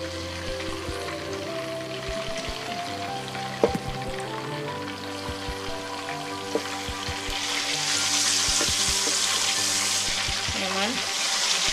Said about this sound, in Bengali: বাকি যে চিকেনগুলো আছে সেগুলো আমি দিয়ে দিচ্ছি সেম তেলে